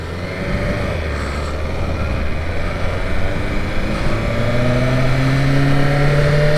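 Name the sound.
2023 BMW S1000RR motorcycle engine warming up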